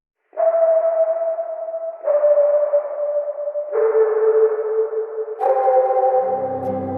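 A mouth whistle drenched in reverb and delay holds four long, smooth notes of about two seconds each, stepping between pitches, with washy echo tails and a low droning layer entering under the last note.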